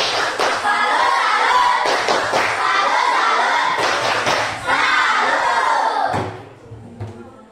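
A classroom of students claps a rhythmic salute clap in a civics lesson, loud patterned bursts of hands with shouts, ending abruptly before a brief quieter pause.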